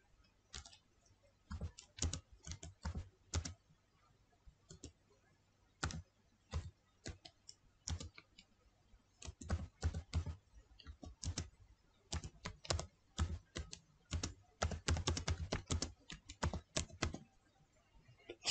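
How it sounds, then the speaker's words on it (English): Computer keyboard typing in Microsoft Word, heard as irregular bursts of close, crisp key clicks with short pauses between runs, steady throughout with no talking. "Now try to type anything. Now start to type around."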